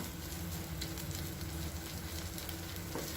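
Masala pav vegetables are stirred in plenty of butter on a busy food stall's pan, producing a continuous, even sizzle with faint stirring scrapes underneath.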